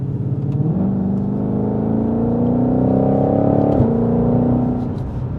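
Ford Mustang Shelby GT500 with an American V8 engine revving, a loud, deep rumbling note that climbs steadily through the gears with a distinct shift partway through, heard close with no talk.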